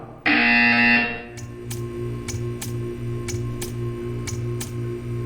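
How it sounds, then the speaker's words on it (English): A loud, harsh electronic buzzer from the video game Portal 2 blares for under a second, followed by a steady rhythmic ticking over a low hum. "When you hear the buzzer, stare at the art."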